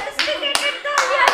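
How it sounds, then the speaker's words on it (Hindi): A few sharp, separate hand claps ring out during a mehndi ceremony on the night before a wedding, with voices talking between and over them. "ओह तालियां बज रही है मेहंदी के बीच में"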